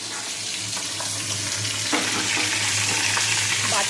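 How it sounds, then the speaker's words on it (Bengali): Bata fish frying in hot oil, a steady close sizzle with soft crackles and a few stirring scrapes, gradually growing slightly louder. "মাছ ভাজা হচ্ছে"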